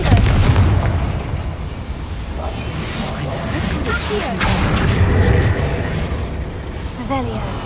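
A Confringo blasting spell detonates in a Harry Potter video game, a heavy explosive boom with crackling debris. Several loud blasts ring out over constant rumbling game ambience and music.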